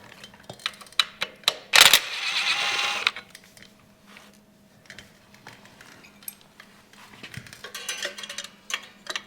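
A 10mm wrench works the skid plate bolts on a Talaria Sting R electric dirt bike, making sparse, close metallic clicks and taps with one brief louder scraping rush midway, then scattered ticks in a quiet space.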